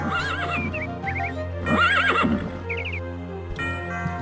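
Horse whinnies in the video game Daggerfall, several high wavering neighs rising and falling over a steady low background drone, fairly loud and close, with no talking.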